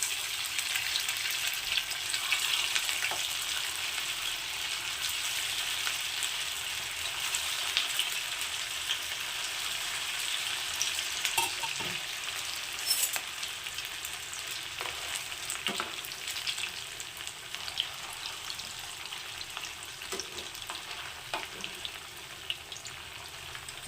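Raw potato and semolina snacks fry in hot oil with a continuous bright sizzle, close and steady, broken by a few faint clicks and stirs.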